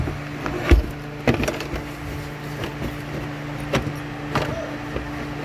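The hood of a 2011 BMW X5 is lowered and shut after a battery replacement, giving a few muffled thumps and clunks close by against a steady background hum.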